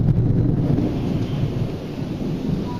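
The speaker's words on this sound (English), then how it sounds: "I don't know if you can hear this thunder, this crazy thunder or not" Deep rumbling thunder rolls through a thunderstorm, a continuous low, heavy roar with rain hiss behind it, steady and fairly loud for a few seconds.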